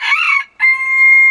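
A late-maturing young rooster on a farm gives a loud, close crow, a brief break, then a sustained high tone that holds to the end.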